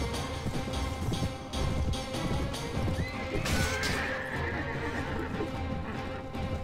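In the medieval combat game Mount & Blade, a horse gives a loud, shrill whinny partway through while its hooves clop steadily underneath, set against a dense, noisy battle background.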